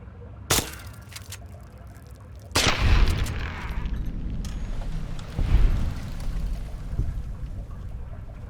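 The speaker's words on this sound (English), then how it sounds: "Think you can take care of that with your BB gun? Just aim and shoot." Sharp BB gun shots fired at a rad roach in Fallout 3, two distinct cracks a couple of seconds apart, each followed by a burst of game noise and rumbling ambience with no talking.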